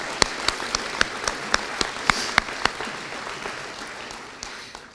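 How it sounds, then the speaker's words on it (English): Scattered, sparse handclaps at a police services awards ceremony, a few distinct sharp claps over a soft wash of clapping that fades toward the end, fairly quiet and distant with no talking. "Can we give them all a round of applause, please?"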